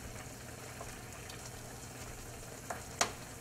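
Sausages seasoned with sage and thyme frying in a pan on a stovetop, giving a faint, steady sizzle with a couple of brief sharper crackles or pan knocks near the end.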